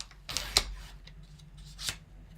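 Paper is cut for a handmade layered card, making two quiet, short snips about a second and a half apart.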